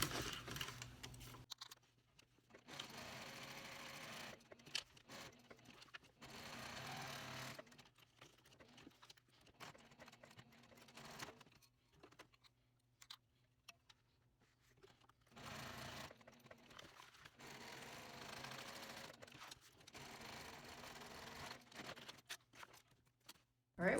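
A sewing machine stitches a pocket onto a brown cork backpack panel with aqua thread, running in repeated bursts of fast mechanical whirring separated by short pauses, close and moderately loud with no talk.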